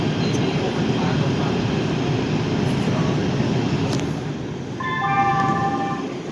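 LA Metro A Line train pulling into Little Tokyo/Arts District station, a steady loud rumble of wheels and motors that eases, then swells again with a bright squeal of brakes near the end.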